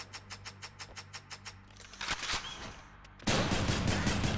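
Hades, the Exagryph Rail of Adamant: a run of evenly spaced sharp gunfire pops in quick rhythm, then a burst of louder noisy firing and impacts, steady and close.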